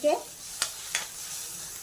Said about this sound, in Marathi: हा तडका आता छान 2 मिनिटं आपण शिजून घेऊयात